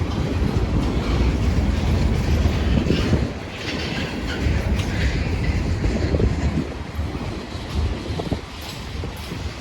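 Railway cars rolling past on the International Bridge at Unity Island, a loud, close rumble with steady clickety-clack of wheels over rail joints, dipping briefly midway before continuing.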